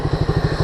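Close, loud motorcycle engine idling with a steady pulsing chug, heard alone.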